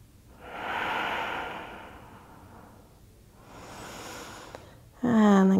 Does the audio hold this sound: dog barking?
no